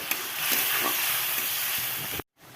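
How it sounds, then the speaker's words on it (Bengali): Spices with turmeric, salt and Kashmiri chili powder fry and sizzle in a pan for Bengali egg curry, a steady close hiss with stirring scrapes that cuts off abruptly near the end. "এটা দিয়ে আরেকটু নাড়াচাড়া করে নেব।"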